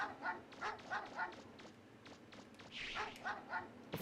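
A dog in the game Mega Man Legends barks again and again, with short yaps coming in a fairly regular rhythm, moderately close and clear, with no talk over them.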